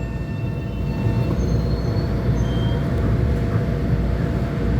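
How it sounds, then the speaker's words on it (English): New Haven train pulling out of Harlem East 125th Street station, a loud, steady rumble of rolling railcars close by with faint high wheel squeals over the top, continuous and unbroken throughout. "That's the New Haven train is pulling out."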